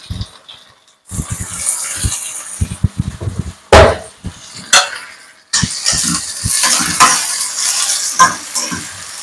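Tomatoes frying for an egg curry, stirred in a pan with scraping clatters and brief bursts of sizzle, loud and close, broken by short gaps and a few sharp knocks.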